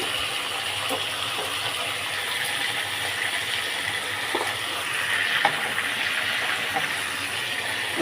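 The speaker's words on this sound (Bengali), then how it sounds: "এবার লবণ হলুদ দিয়ে ভালো করে ভেজে নেবো" Potatoes and cauliflower frying in hot oil with salt and turmeric: a steady, close, continuous sizzle with occasional light clicks of utensils, unbroken for the whole stretch.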